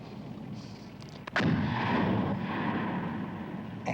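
An artillery shell blasts in the Afghan hills, a sudden heavy boom that breaks a quiet stretch and then rumbles and rolls on for seconds afterward.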